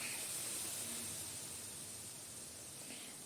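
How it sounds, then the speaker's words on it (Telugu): Hot oil poured over urad dal flour and rice flour makes a steady, faint hiss that fades gently over a few seconds, with no one talking. "ఇప్పుడు ఆ నూనెని పిండి మీద ఇలా పోసేసేయాలి."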